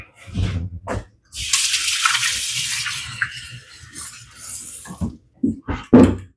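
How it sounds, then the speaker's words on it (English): Hands are washed under a running kitchen tap, with a steady gush of water for a few seconds between short bursts of voice and handling noises. "wash your friggin' hands"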